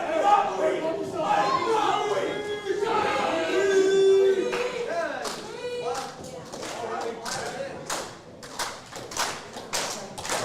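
Crowd at a live independent pro wrestling show in Danville, Indiana, cheering and chattering steadily throughout, with scattered claps and thuds from the ring, under a commentator's continuous speech.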